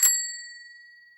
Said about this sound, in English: The bicycle bell means it's time for an explanation